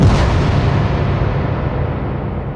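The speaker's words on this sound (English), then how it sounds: "cower inside the house as Willie sprays 9mm bullets everywhere." Loud, dense gunfire from a 9mm weapon fired inside a family home, a continuous rumbling roar of shots and booms that fills the whole moment with no speech.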